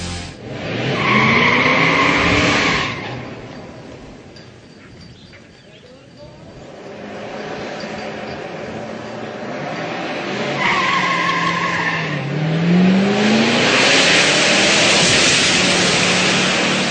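Muscle car tires spinning and squealing at launch after being heated, loud skidding screech rising at the start and again near the end, with engine roar and some talk in between.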